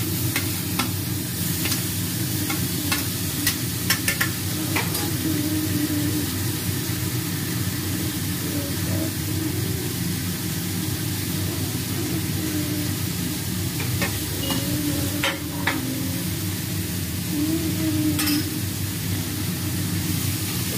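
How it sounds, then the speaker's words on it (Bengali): Carrots, onion and beans stir-frying for momo filling, a continuous hiss of sizzling in the pan with scattered spatula scrapes and taps, close by and without voices. "আমরা যেমন ভাজা ভাজা করি অতটা ভাজা ভাজা করবো না, একটু সামান্য নাড়িয়ে চেড়ে নেব।"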